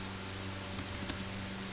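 Short burst of computer keyboard typing, a handful of light clicks in quick uneven succession over a steady low hum, fairly close and quiet.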